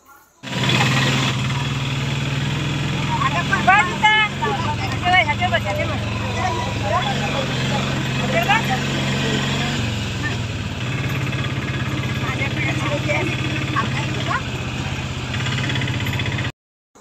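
An auto rickshaw engine runs with a steady, buzzy drone, close and continuous, while voices chatter over it along a hilly rural road in Konkan.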